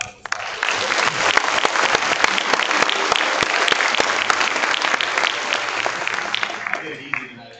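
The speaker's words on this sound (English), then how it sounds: "Let's give them a well-earned round of applause." Loud, dense audience applause rings out at a Daffodil princesses coronation, steady clapping with sharp individual claps standing out, continuing for several seconds before trailing off.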